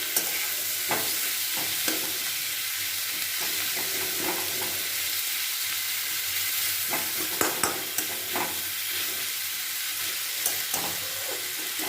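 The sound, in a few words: onions frying until reddish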